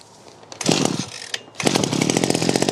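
The small petrol engine of a Mountfield multi-tool coughs briefly, then catches and settles into a loud, steady buzzing run, close by.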